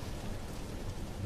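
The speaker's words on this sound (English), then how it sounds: "it really is raining here" Steady rain falls outdoors, a dense even hiss of drops on a surface with low rumbling underneath, continuous and close for the whole short stretch, with no voices.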